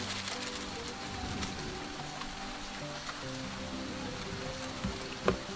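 Steady rain falling outdoors in the rainy season, a dense even hiss with occasional louder drops and splashes near the end, with no talk over it.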